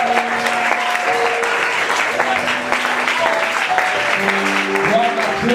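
A church congregation applauds and cheers in a steady, loud wash of clapping. Sustained tonal sounds run beneath it, and shouts rise through the noise.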